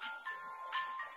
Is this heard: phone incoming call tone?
yes